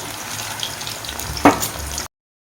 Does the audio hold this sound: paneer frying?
yes